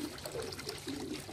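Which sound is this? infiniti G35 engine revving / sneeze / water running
water running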